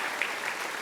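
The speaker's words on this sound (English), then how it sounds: "I would like to just clap for that" Brief burst of crowd clapping at a political opening rally, a dense steady patter lasting under a second.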